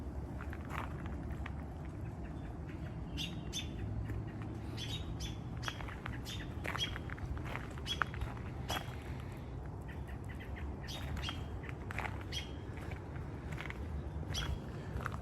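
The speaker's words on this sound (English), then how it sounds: "Are those birds making all that noise because of me?" Many birds chirp and squawk busily in a Japanese garden among camellias, quick sharp calls scattered close by over soft footsteps on a path.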